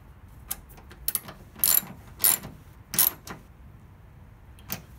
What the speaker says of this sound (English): We'll just go ahead and tighten that nut.